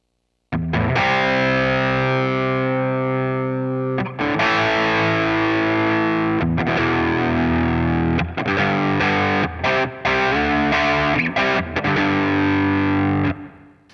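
Heavily overdriven electric guitar through a Hotone Ampero drive patch, with a thick, saturated tone, playing chords and riffs with brief pauses between phrases, loud and up close.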